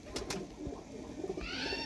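Sialkoti Sheikh pigeons of the black-faced kukkar breed coo softly at close range, a few low burbling calls over faint background noise.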